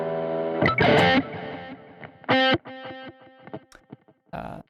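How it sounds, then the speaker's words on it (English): Electric guitar through a distortion pedal with the gain turned up, heard in short bursts of crunchy chords and single notes separated by brief silences, loud and close with no talk. "I have the gain turned up on the distortion pedal a little bit"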